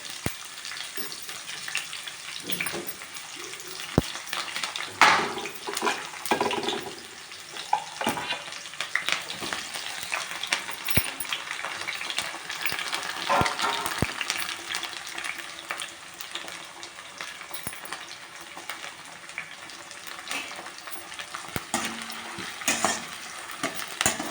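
Onions, tomato and green chilies hit hot oil with spluttering mustard seeds for an Ongole-style fish curry, giving a continuous loud close sizzle broken by scraping stirs and sharp crackles throughout.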